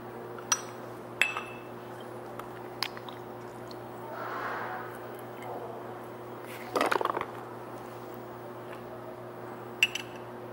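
Glass beaker in a chemistry lab clinks sharply a few times, with scattered light knocks and a soft rustle between them, close and fairly quiet.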